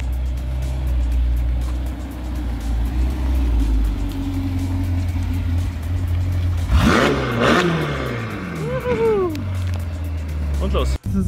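A Ferrari Portofino tuned to Stage 2 with 715 PS and an IPE exhaust drones steadily on the road, then revs up hard with rising, sweeping engine tones partway through, loud and close from inside the car, with people talking over it.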